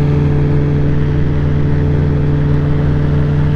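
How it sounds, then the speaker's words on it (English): A concrete pump truck engine runs steadily at a job site, a loud, constant low hum with a strong droning tone and no break or change in pitch throughout. "Trucking down here today, pumping concrete"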